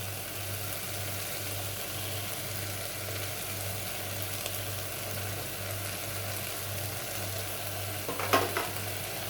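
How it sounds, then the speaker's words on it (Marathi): Dal spices—turmeric, coriander-cumin powder, garam masala and kitchen king masala—sautéing in a pan for Maharashtrian varan, a steady close sizzle with soft stirring scrapes throughout and a brief clatter near the end. "हे सगळं परतून घेऊया."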